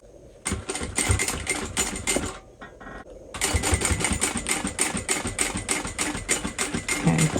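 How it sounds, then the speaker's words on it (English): A sewing machine top stitches a crossbody bag near the zipper tabs, running in a fast steady rattle, pausing briefly, then continuing close and loud in a longer stretch. "I'm only going to top stitch between those zipper tabs"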